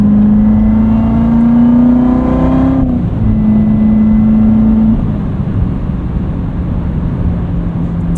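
A 2019 Chevrolet Corvette Z06 with a supercharged engine and seven-speed manual revs hard under acceleration, its loud, steady engine tone climbing, then dropping at a gear change and carrying on at a lower, sustained drone.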